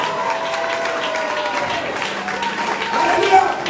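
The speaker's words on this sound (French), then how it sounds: "Est-ce qu'on peut acclamer le Seigneur?" A church congregation at an evangelistic seminar bursts into sustained applause and cheering, a dense continuous roar of clapping and voices that swells louder near the end.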